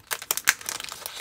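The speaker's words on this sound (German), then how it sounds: "Ohne Rascheln geht es bei einem Unboxing nicht" Crinkly plastic packaging rustles while a Meng 9A52-2 Smerch scale model kit is unboxed, a close series of sharp crackling handling noises with brief pauses, no voice.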